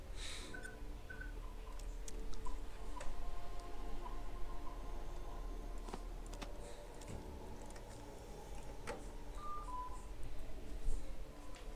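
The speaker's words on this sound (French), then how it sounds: "Alors, ça, c'est le téléphone." Telephone dialing in the video game Fallout: a steady run of short, quiet clicks and beeping tones spread over a dim, continuous in-game background hum, with no clear talking.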